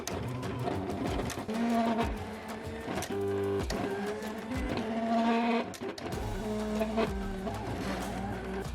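A Silhouette vinyl cutting machine runs steadily while cutting adhesive vinyl on a mat, giving a continuous close mechanical whir with stepped, shifting motor tones and short pauses and restarts.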